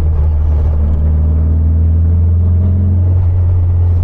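A 1974 VW Super Beetle with a 1915cc engine growls steadily while driving, a loud low rumble with slight rising pitch shifts, no talking.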